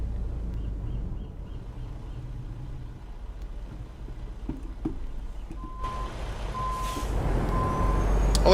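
Truck reversing in American Truck Simulator, its engine idling low and quiet before a steady beeping reverse alarm starts, with a hiss of air brakes and rising engine rumble toward the end.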